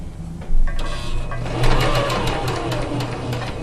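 A sewing machine stitches fabric in a steady mechanical whir with a faint rhythmic needle clatter, running close and alone with no voices.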